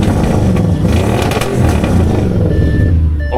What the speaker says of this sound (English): Just give it a bit of the old tap of the old throttle.